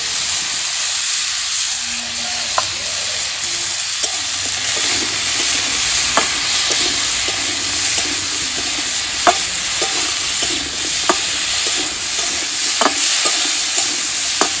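Bethua greens dish being started in a pan: oil sizzles and fries steadily while a utensil stirs and scrapes in sharp, repeated clicks, close and loud throughout with no talking.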